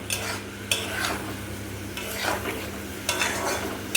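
Okra chorchori, a Bengali curry, sizzling in a pan as it nears doneness, with the scrape of a spoon stirring it at about three points. The stirring sits over a steady low hum.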